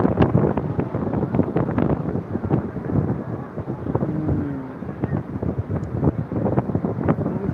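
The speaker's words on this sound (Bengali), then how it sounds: "প্রচণ্ড বাতাস এবং ঢেউয়ের উত্তালন ঢেউয়ের অবস্থা" Strong wind buffets the microphone at Sugandha Beach in Cox's Bazar while rough sea waves churn underneath, a loud steady roar with gusty bursts throughout.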